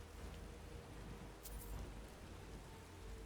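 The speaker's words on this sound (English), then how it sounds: "torrential downpour" Steady, dense rain noise from a torrential downpour in the video game Skyrim, a soft continuous hiss with a faint brief high crackle partway through; no voices.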